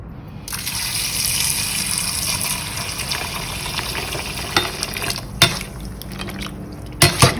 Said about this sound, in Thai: อันนี้เราก็จะเทเราก็จะล้างครั้งที่สองนะคะ